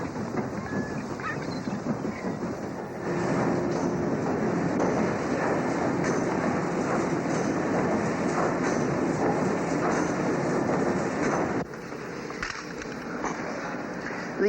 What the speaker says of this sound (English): This coal-burning steamer, which we are on, is a relic of the Industrial Revolution.